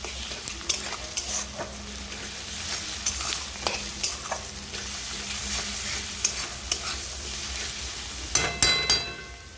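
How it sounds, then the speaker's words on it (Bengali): Ginger garlic paste sizzles and is stirred in a pan for a mung dal and egg tarka, giving a steady frying hiss broken by repeated scraping and clinks of a spatula against the pan, up close with no talking. "এবার দেবো আদা রসুন বাটা একসঙ্গে বেটে রেখেছি"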